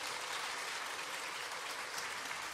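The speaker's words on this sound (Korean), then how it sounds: "박수 한번 다 주세요" A concert audience at a morning chamber concert in an art hall applauds, a dense, even wash of many hands clapping that holds steady for the whole stretch.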